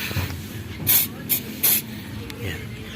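Asphalt remover sprayed onto asphalt in three short sharp hissing bursts from a spray nozzle, close and loud over a low outdoor background rumble.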